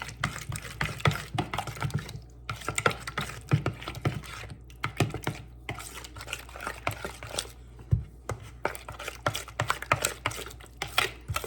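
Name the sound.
mixing enchilada sauce until smooth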